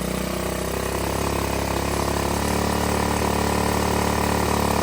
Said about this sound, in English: You hear how the idle's going up?